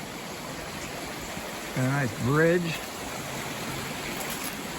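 A mountain stream at Rock Creek along the Pacific Crest Trail in Washington flows in a steady, broadband rush, near and continuous, with someone speaking briefly over it.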